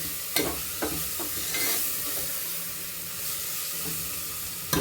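Chopped tomatoes fry for biryani in a hot pan with oil, a steady loud sizzle broken by a few scraping stirs of a spoon across the pan.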